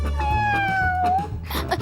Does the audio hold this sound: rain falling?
no